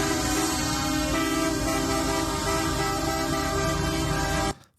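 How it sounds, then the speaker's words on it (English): Loud, sustained blaring of several vehicle horns from a tractor convoy at a farmer protest, layered together, droning continuously up close before cutting off at the end. "That honking is loud."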